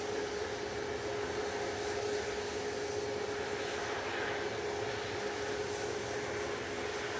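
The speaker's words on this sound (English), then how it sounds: "Coming over the threshold now is Gulf Air Flight 5 from Bahrain. A9C-FB, it's the 787-9 Dreamy." A Gulf Air Boeing 787-9 passes over the runway threshold on landing at Manchester Airport, its engines giving a steady, broad roar with a faint whine, sustained at moderate distance with no talking.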